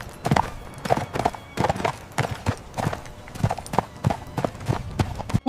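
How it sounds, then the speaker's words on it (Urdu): Donkey hoofbeats plod along at a steady walking rhythm, a string of close, hollow clip-clop strikes repeating evenly about twice a second with no voices over them. "حضرت عزیر اپنے گدھے پر سوار انجیر اور انگور کا رس لیے اس اجاڑ بستی سے گزر رہے تھے"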